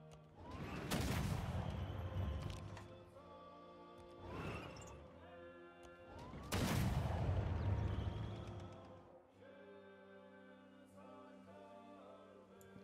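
Tanks fire in battle in Civilization 6, with heavy booming blasts and crackling gunfire arriving in several loud bursts that decay into rumbling tails, with brief quieter stretches between volleys.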